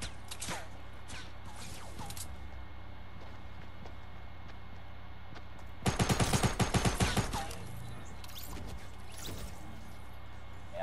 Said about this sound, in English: They start shooting me behind me.